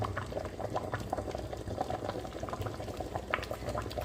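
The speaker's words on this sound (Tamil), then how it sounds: "இது கொஞ்சம் அவிய விடுவோம் அப்போ தான் புளிக்கரசுகள் எல்லாம் சேர்ந்து அவிஞ்சு நல்லா இருக்கும்" Crab and prawn odiyal kool bubbling away in a pot, a steady close boil with continuous small popping bubbles and no voices.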